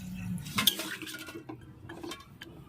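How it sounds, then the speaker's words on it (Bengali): Papaya pieces and water tipped into a wok on a gas stove, giving a short clatter of metal and pieces landing, then a soft wet stirring and sloshing, close and fairly quiet. "কড়াইতে দিয়ে দিচ্ছি পেঁপেগুলো, তারপরে পরিমাণ মতো জল দিয়ে দিচ্ছি"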